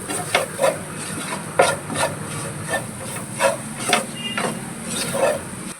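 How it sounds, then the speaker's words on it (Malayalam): A spoon scrapes a pan as turmeric, chilli, garam masala and pepper powders are sautéed, making rhythmic stirring strokes about twice a second over a faint, low sizzle, close up and with no talking. "കുറച്ച് മഞ്ഞൾപ്പൊടി, കുറച്ച് മുളക് പൊടി, കുറച്ച് ഗരം മസാലപ്പൊടി, പിന്നെ കുറച്ച് കുരുമുളക് പൊടിയും കൂടി എല്ലാം കൂടി നന്നായി ഒന്ന് വഴറ്റുക."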